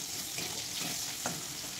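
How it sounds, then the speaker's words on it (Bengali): Tomato frying with onion in a pan for malai chicken, a soft, steady hiss of sizzling oil with faint stirring scrapes, fairly quiet and without any speech. "পেঁয়াজের সঙ্গে টমেটোটা আর একটু ভেজে নেব।"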